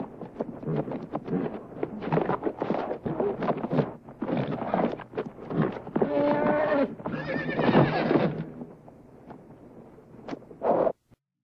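A horse neighs in a loud, drawn-out whinny with shaky, quavering cries, mixed with hoof clatter and rustling, then stops abruptly.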